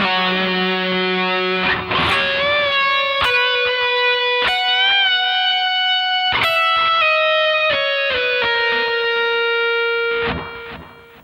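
Electric guitar plays a melodic phrase built on sliding notes, with distortion and effects, each pitch gliding into the next for about ten seconds, clear and close with no talking.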